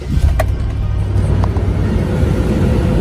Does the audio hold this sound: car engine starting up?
yes